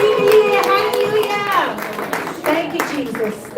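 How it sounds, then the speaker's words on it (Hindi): A congregation at a Christmas church celebration claps vigorously in quick bursts of hands, while voices, including a child's, sound over the clapping. "जोर से तालियां बजाकर यीशु मसीह के लिए."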